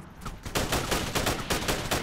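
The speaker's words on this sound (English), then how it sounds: "It's not the UN guy shooting at us, is it?" Sustained automatic gunfire from an ARMA 3 co-op firefight on Altis, loud, dense bursts of rapid shots rolling almost continuously after a brief quieter lead-in.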